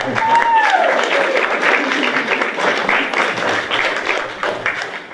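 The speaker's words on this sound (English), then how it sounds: "I want to another round of applause and thanks for all of that." At a church vestry forum, an audience breaks into sustained applause and thanks. The clapping stays steady and moderately loud throughout, with a brief tonal sound near the start and some murmuring underneath.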